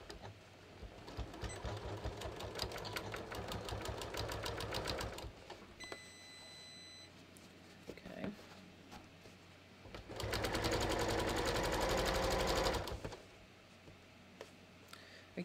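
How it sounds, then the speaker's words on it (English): A domestic sewing machine stitches a pocket bag onto a welt in two sustained runs of rapid, even needle chatter, with quieter gaps and small handling sounds between them. "I'm actually going to just sew it to the end of the welt here."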